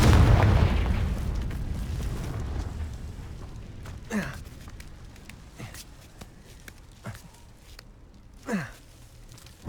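A fiery Confringo spell blast in Hogwarts Legacy opens with a loud, rumbling burst that slowly fades, then a few faint scattered pops and thuds follow in a quiet stretch.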